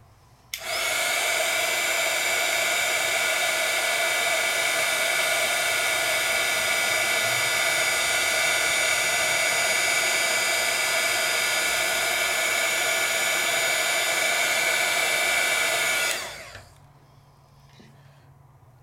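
A crafting heat tool blows hot air to melt embossing powder, giving a loud, steady whooshing roar close by for about fifteen seconds before it switches off and winds down.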